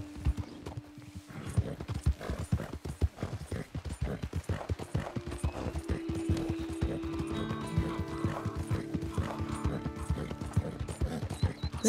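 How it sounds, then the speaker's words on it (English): Steady clip-clop of horse hooves at a brisk pace in Red Dead Redemption 2, with a horse whinnying partway through over a busy, mechanical game background. "Oh, that's a horse."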